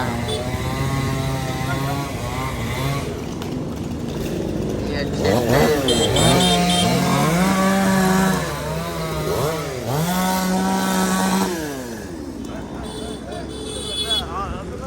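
A chainsaw cuts through a fallen tree blocking a road, its engine revving up and down in rising and falling whines, while people talk nearby.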